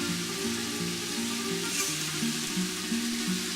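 Coarsely chopped garden vegetables hit a hot pan and fry with a soft, steady sizzle under a faint background hum, without speech.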